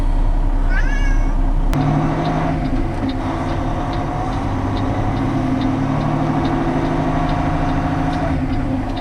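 A cat gives a short, rising meow for treats early on, clear above a loud, constant engine rumble inside a truck cab on a winter drive.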